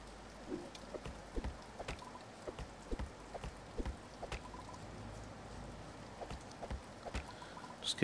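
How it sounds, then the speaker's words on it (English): Rain in a zombie survival roguelike video game, a soft steady patter with scattered distinct drop ticks, quiet and continuous. "it's starting to rain"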